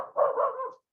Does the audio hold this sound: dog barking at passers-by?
yes